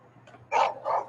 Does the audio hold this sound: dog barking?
yes